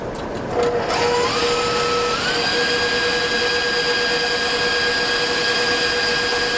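Electric stand mixer kneading pizza dough, a loud steady motor whine that steps up in pitch as it speeds up, with a brief clatter at the start, running alone without talk.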